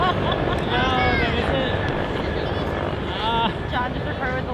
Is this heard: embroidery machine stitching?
no